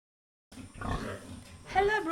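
A pig on a breeding farm, a sow that has just farrowed, gives a few close, loud grunts and oinks after a brief silence, ending in a sharper squealing grunt.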